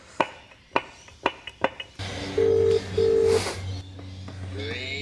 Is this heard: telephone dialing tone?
yes